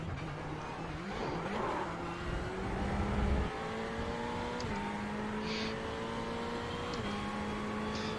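Race car engine in iRacing drones steadily at high revs, its pitch stepping up through gear changes and briefly dipping, loud and continuous throughout with no talk.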